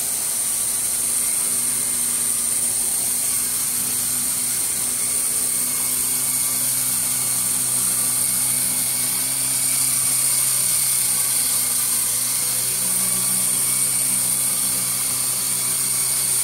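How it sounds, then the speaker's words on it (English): A helicopter lifts off and hovers, giving a steady, continuous engine whine with a high tonal hum that holds evenly throughout. "Aim it on the helicopter when I bring it up."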